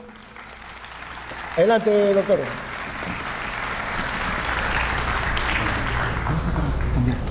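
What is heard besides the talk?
applause welcoming a speaker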